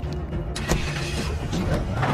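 A stolen car in a film starts up and pulls away, its mid-range engine rumbling steadily with a few sharp mechanical clicks and thumps over it, close and fairly loud.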